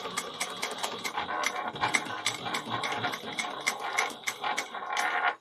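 A sewing machine stitches a Kandu bag, its needle clattering in a quick, steady mechanical rhythm close up that runs without pause.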